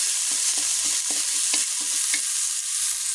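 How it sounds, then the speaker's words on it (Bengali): Prawns fry in a pan with a constant close sizzle, while a spatula stirs them in a series of regular scraping strokes. No one speaks. "চিংড়ি মাছটা ভেজে নেবো চিংড়ি মাছটা ভেজে নেব"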